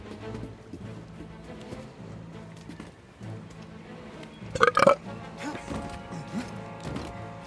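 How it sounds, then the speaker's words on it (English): A game character in Star Wars Jedi Fallen Order lets out a loud, gross burp, a short rough double burst rising out of low background music and ambience, with faint scattered thumps afterward. "Why would you burp like that?"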